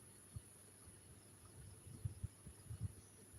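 Crickets chirp at night outside a home in Phang-Nga, Thailand, making a steady, faint, high-pitched drone with a few soft low thumps underneath.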